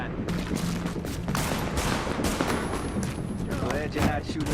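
Dense rapid gunfire from The Division video game, loud overlapping rifle bursts and shots crackling continuously, with a voice talking faintly beneath the shooting.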